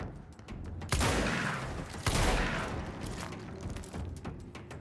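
An enemy shooting in the video game Control: heavy bursts of gunfire with booming impacts, two strong volleys about a second apart, then lingering rumbling fire.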